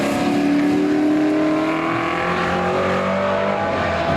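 BMW and Holden touring cars race in a QTCC event, engines roaring loud and continuous, nearby and alone, with pitch rising and falling through gear changes.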